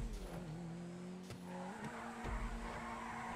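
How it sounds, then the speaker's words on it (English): Car tires squeal steadily while drifting in a GTA 5 race, a sustained whine over a constant engine drone, with a couple of brief thumps along the way. "Oh, this is a good drift race."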